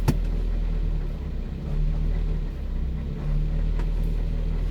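A 1974 Honda Civic mk1 engine idles at operating temperature, a steady close rumble with slight swells in loudness and no talk.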